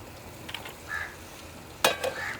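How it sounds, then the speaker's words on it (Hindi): Tomatoes go into frying onions in a Pakistani village kitchen: a soft steady sizzle, then a sharp clatter and a brief louder burst of frying as the tomatoes hit the pan. "इसमें अभी हम डाल रहे हैं टमाटर,"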